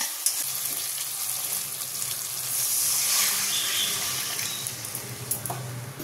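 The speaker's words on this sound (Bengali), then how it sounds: "তখন জল দিয়ে দেবো" Water poured into a pan of spiced fish curry masala, the hot oil and spices hissing and sizzling loudly as the liquid hits, swelling midway and then settling into a softer bubbling, close up, with no talk.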